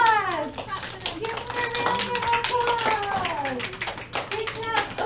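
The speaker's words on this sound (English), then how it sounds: "Give him a round of applause." Children in a classroom clap in a round of applause, the patter close and lively while an adult voice and kids' chatter carry over it.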